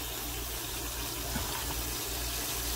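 Beans being washed under a running kitchen tap, a steady close rush of water gushing into a sink with no talking.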